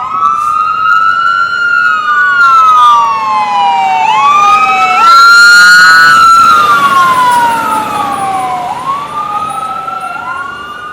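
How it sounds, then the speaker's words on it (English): A fire engine siren in downtown Vancouver wails loud and close, sweeping up and down repeatedly with overlapping wails and a brief horn blast midway, alone without talk. "A different fire engines than the ones we have at home in Ireland."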